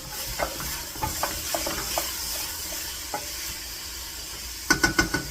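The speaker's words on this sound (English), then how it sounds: "we just want to sweat our onions out a little bit" Soft sizzling of onions sweating in a pot of vegetable soup, with a scattering of light scraping clicks from stirring, growing busier near the end.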